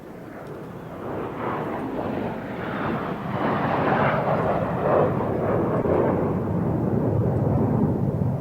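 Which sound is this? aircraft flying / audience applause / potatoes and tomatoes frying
aircraft flying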